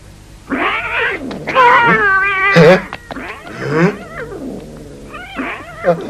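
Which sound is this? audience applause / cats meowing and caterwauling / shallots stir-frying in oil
cats meowing and caterwauling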